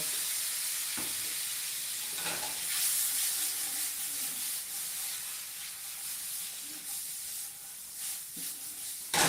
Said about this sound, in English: what I'm doing is reheating steak since I don't have a microwave